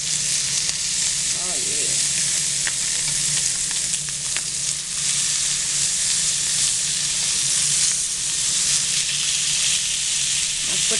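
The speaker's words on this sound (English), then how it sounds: "Now I'm going to flip the salmon." Salmon fillets sizzling in a hot pan after being flipped, a loud steady crackling fry that runs throughout, close, with a brief spoken remark over it.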